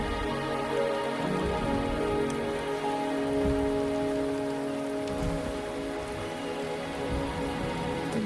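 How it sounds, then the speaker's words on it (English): Steady rain falls and patters on a surface, a dense continuous hiss with scattered droplet ticks, moderately loud and unbroken, with no voices. "The rain is subsiding."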